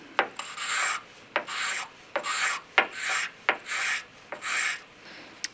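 A sharp tungsten carbide scraper is dragged across a paint run on car paintwork, giving about eight close, rasping strokes in a steady rhythm, each opening with a sharp tick.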